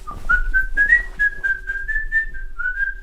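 A person whistles a quick string of short, bright notes in a wavering, sneering tune, imitating a disdainful whistle; it is clear and close, with no other sound around it.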